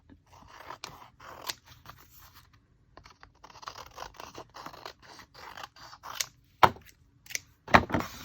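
Scissors cut paper for a journaling page in a close, quiet run of snips and scratchy rustles, ending in a few sharper cuts, with no talking.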